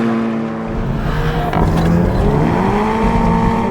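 A Honda Civic Type R accelerates hard in a drag race against a Volkswagen Golf GTI TCR, its engine note rising steadily in pitch, loud and close, heard from the pursuing car's cabin.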